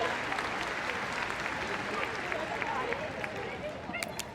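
A crowd applauds steadily at the Crufts 2014 agility team small semi-final, a continuous wash of clapping with a commentator talking over it.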